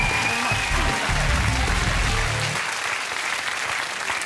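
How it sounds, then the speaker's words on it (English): Studio audience applause for Guy Goma on a comedy quiz show, loud and sustained throughout, with a brief low rumble of voices in the first half before it settles into steady clapping. "Guy Goma. Round of applause."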